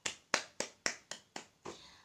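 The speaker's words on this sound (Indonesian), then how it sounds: "tepuk tangan untuk kita semua." Classroom applause heard as a few separate, crisp hand claps in a slow, even rhythm, close and fairly quiet, ending with a softer, longer clap.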